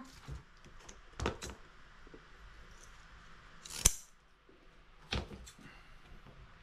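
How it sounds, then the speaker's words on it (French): Scissors snip through fish fins while a freshly caught fish is cleaned for cooking: a few sharp, separate cuts spaced a second or two apart, close and fairly quiet, with no voices. "Efficace les ciseaux du showroom, hein."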